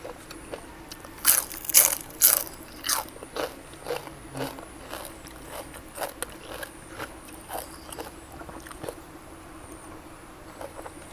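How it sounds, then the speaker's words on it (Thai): Crisp, close crunching bites into a spicy Thai instant noodle salad with meatballs, a burst of loud crunches early on, then softer, steady chewing crunches fading toward the end. "กรอบๆเลยค่ะ"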